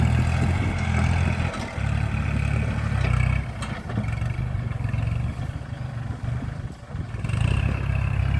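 Kubota L4018 tractor with a three-cylinder diesel engine running at full speed while ploughing a field, a steady loud engine drone with rattling and clatter throughout.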